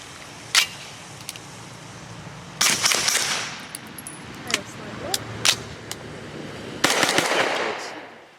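A Grand Power Stribog fires subsonic Federal Syntech Training 147 grain rounds, giving several sharp, fairly muted shots spaced irregularly, with one short burst and some clinking in between.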